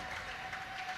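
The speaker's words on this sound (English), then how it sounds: "I'm sure you can hear some cheers and some shouts" Spectators at a European para table tennis championship clap and cheer in a steady wash of applause, moderately loud and continuous, with no distinct voices standing out.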